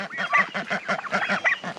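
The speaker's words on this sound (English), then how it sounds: "Ducks are getting big." Farm ducks give a quick run of close, loud honking quacks in an even rhythm, about a dozen calls packed into under two seconds.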